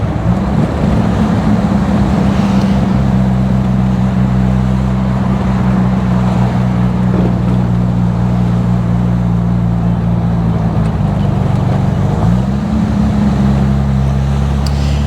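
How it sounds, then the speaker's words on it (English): A Jaguar XK120SE roadster drives at freeway speed, its engine a steady, loud droning hum with a brief dip and pickup near the end, heard from inside the car with no talking. "I just love the sound of this car."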